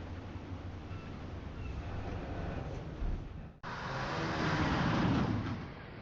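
Car driving in the video game Alan Wake Remastered, a steady broad engine and road rumble that briefly dips and cuts out, then resumes slightly louder and fuller, with no talk.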